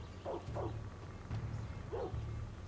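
Dog in the Far Cry 6 video game giving several short barks and yips in quick pairs, moderately close over a low background hum.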